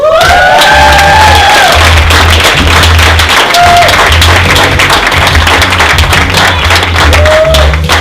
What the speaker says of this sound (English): they have to cheer like that, I'm grading them.